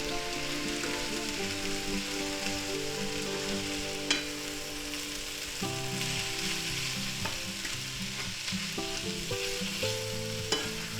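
Cayenne pepper and smoked paprika get stirred into a frying pan where food sizzles steadily, with a spoon or spatula scraping and clinking against the pan now and then over the constant crackle, without any talking.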